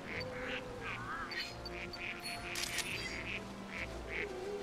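Repeated duck quacks in New Pokémon Snap sound in a loose rhythm over a low ambient hum, mixed with a few bird calls and a brief bright clink, with no talking.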